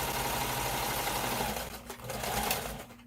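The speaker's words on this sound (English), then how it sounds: "I'm going to sew it all the way closed." A sewing machine runs steadily, stitching elastic onto a maxi dress with a loud close whirring hum that briefly slows and dips before picking back up.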